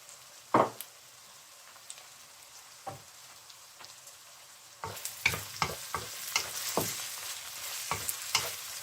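Soya chunks dropped into hot oil in a pan for beetroot pulao, setting off a sharp splash and then a growing sizzle with repeated scraping stirs of a spoon, close and steady.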